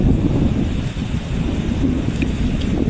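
Strong wind roars steadily over open water during a fishing outing on a river or sea, a dense, unbroken low rush with gusty swells and no voices.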